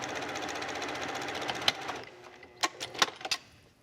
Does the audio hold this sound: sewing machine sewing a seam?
yes